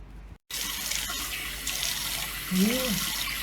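Cold water runs from a tap in a steady, close hiss while a face is washed, with a brief cut to silence near the start and a faint voice-like tone late on.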